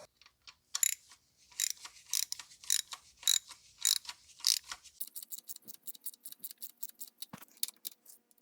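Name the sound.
ratchet tightening spark plug on 2016 BMW M235i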